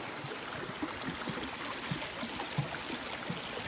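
A small creek tumbling over little falls beneath a footbridge on a spring woodland trail at Big Canoe, Georgia, a soft continuous babble and trickle with faint scattered splashes, no voices.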